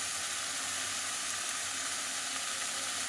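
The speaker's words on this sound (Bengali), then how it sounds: "একটু মশলাটাকে কষিয়ে নিচ্ছে" Spice paste of tomato, ginger and green chili frying in a pan, a steady bright sizzle with faint bubbling, constant and close throughout, no voices.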